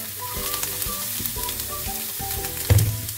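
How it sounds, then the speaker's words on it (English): Sweet pepper and celery fry in a pan with a constant, close sizzle and a few soft stirring knocks, while faint steady tones hum underneath and one louder clatter lands near the end. "And let that fry for a bit."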